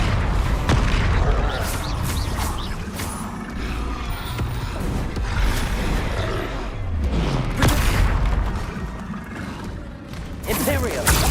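Confringo fire spell blasts crack out over and over in a Harry Potter video game, a dense run of booming, crackling impacts with brief bursts mixed through busy game noise.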